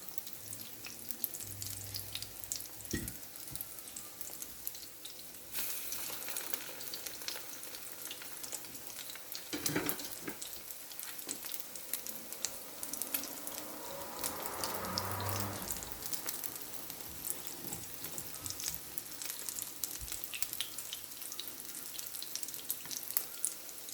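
An aloo bread sandwich cooks in a pan with a low, steady frying hiss, accompanied by faint handling and scraping noises throughout.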